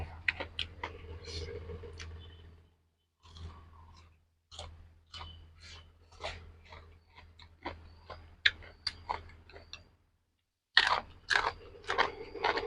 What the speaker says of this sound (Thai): กินเจ้ากระเปียกมันทอดเนาะ